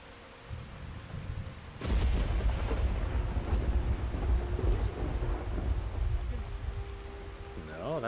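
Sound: thunderstorm with rain in video game Skyrim

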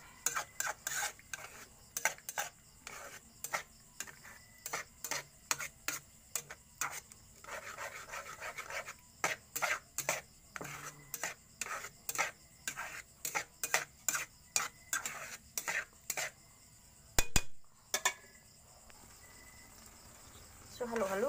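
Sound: stirring sardines cooking in a pan

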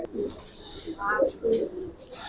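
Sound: pigeons cooing at a pigeon fair

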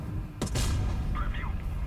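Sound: tank cannon shot in a video game

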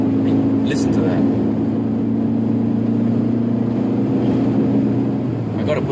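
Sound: 1990 Toyota Corolla 1.6 SE engine and exhaust

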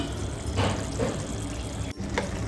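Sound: water poured into cooking pan

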